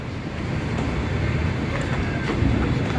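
An MRT train passes near an EDSA overpass, producing a continuous, loud low rumble with roaring traffic-like noise that stays steady throughout.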